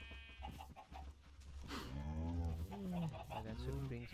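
Cattle in the Minecraft video game moo in a long, fairly loud drawn-out call that swells and wavers over a low rumbling game backdrop, preceded by a few softer scattered sounds.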